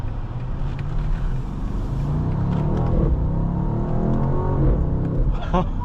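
A 2023 BMW M850i xDrive accelerates hard, its engine roaring and climbing in pitch from inside the cabin, with a continuous low drone and rising harmonics, and a voice talks over it.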